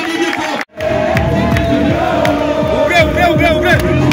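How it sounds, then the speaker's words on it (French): A crowd cheers, shouts and applauds loudly for an arrival at a Cameroonian election campaign event, a continuous roar with whistles and cries after a brief drop at the start. "recevoir comme cela se doit, avec des cris, d'acclamation, de tonnerre de joie"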